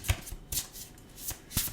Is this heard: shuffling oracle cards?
yes